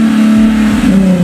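Nissan 370Z engine revving hard in short bursts, a loud close deep drone rising and falling with throttle, with faint crackling exhaust pops near the end.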